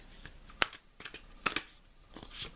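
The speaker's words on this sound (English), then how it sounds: "So I'm taking the deck and I'm shuffling and I'm looking for cards to stick out." Tarot cards being shuffled by hand in a quiet room, with a few crisp riffling bursts and soft card slaps separated by pauses, close and moderately loud.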